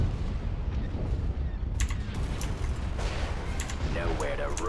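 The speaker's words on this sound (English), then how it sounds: "Ion cannon firing." Ion cannon fire in a Star Wars space battle video game comes as distant booming blasts and sharp cracks over a dense rumbling battle background, several bursts spread across the clip.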